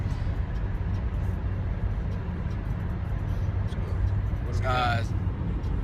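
A car cruising along the New Jersey Turnpike, a constant low road and engine drone heard from inside the vehicle while people talk over it.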